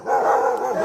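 Several dogs bark and howl together along a road, a dense, continuous chorus of overlapping barks close by with no talk.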